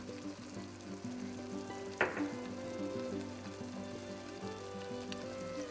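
Turmeric powder sizzles in hot oil in a one-pot chicken curry, a steady, quiet frying crackle with a single brief clatter partway through.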